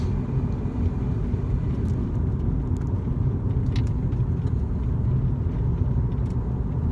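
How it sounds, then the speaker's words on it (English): A car drives down a hill, its steady low engine rumble and road noise running continuously and fairly loud from start to finish, with no talking. "as I drive down the hill here."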